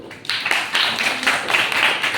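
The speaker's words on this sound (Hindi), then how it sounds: "अपने के लिए, अपने लोग के लिए ताली बजाओ तुम लोग।" Children in a classroom clapping for their classmates, a short burst of scattered, uneven handclaps that starts after a brief pause and carries on at moderate loudness, with faint voices underneath.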